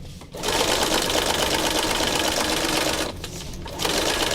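A sewing machine stitches a paper surface backed with interfacing at a 3mm stitch length, a loud, steady close-up whirr that runs almost continuously, with a brief pause near the end before resuming.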